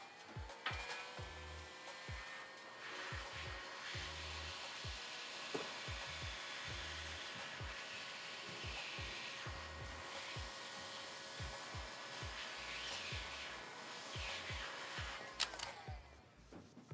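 A heat gun blows with a steady, even whir while heat shrink tubing on a headphone cable is shrunk, with soft knocks and handling clicks in the foreground and the hum running unbroken until a sudden stop.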